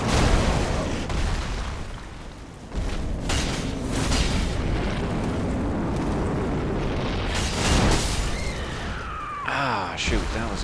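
A Dark Souls 3 explosion erupts in a deep, rumbling boom that swells and fades over several seconds. Game effects and a person's voice sit on top of it.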